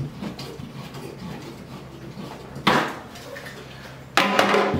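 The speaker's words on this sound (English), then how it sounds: "I'm going to go ahead and cut my pipe at 1 inch off the wall" A plumber cuts a pipe stub about an inch from the wall ahead of fitting an angle stop valve, giving a few sharp metallic bursts, two loud ones standing out over a steady scraping, clinking background close by.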